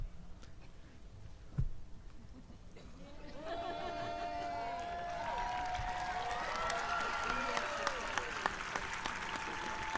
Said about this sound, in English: they are getting a deserving round of applause